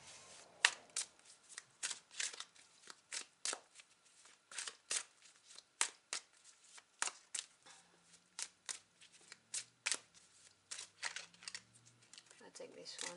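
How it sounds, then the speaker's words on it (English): Tarot cards shuffled and dealt out for a reading, giving a steady run of crisp, close riffles and slaps with short pauses between; a low faint hum sits underneath. "I'm just going to lay my cards first."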